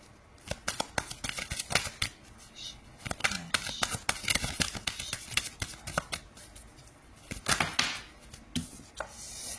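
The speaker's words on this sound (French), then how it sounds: "on va prendre une carte du tarot" Tarot cards shuffled and drawn by hand, a run of crisp rapid flicks and slaps in irregular bursts, close and distinct, with occasional quiet speech between them.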